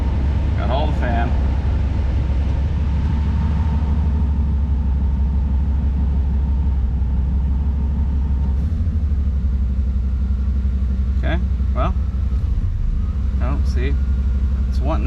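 A 1992 Chevy C1500 Fleetside truck idles with a steady low engine rumble, running a little rough, while someone talks over it in a few short bursts.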